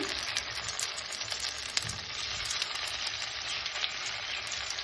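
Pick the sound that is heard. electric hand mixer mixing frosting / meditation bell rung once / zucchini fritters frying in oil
zucchini fritters frying in oil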